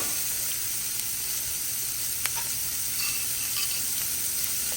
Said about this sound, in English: We're going to saute these ingredients for about 30 seconds.